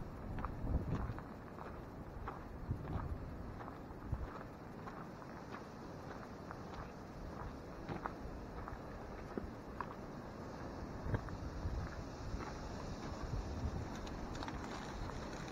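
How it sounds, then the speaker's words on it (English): Steady gusty wind rumbles and buffets outdoors at a 1930 stone arch bridge, a low constant roar with occasional thumps and faint footsteps, no voices. "Just very windy right now."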